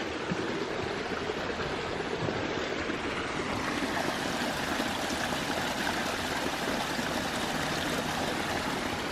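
A countryside stream flowing steadily near a walking path, a continuous close rushing and burbling of water that stays even and fairly loud throughout, with no voices.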